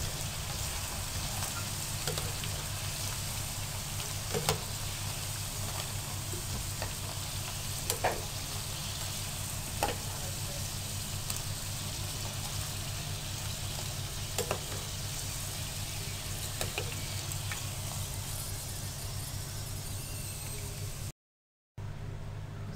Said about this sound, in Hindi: अब आपने इसी तरह से सारे पकोड़े फ्राई कर लेने हैं।